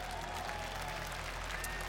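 Warm applause from a large audience at a televised song contest final, a steady, distant wash of clapping with crowd murmur beneath.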